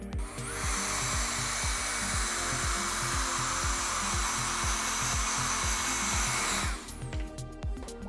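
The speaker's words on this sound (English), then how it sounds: "I'm gonna use the blow dryer to create dimension." A hair dryer blows steadily and loudly for several seconds with a rhythmic pulsing hum while styling brunette hair, then cuts off near the end.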